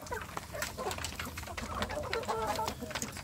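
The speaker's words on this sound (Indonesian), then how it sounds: "Di pagi hari ini saya memberi makan anak ayam kampung saya" Young kampung chickens clucking and peeping in a rearing coop while being fed, a busy overlapping flock chatter at moderate distance, with faint human sounds in the background.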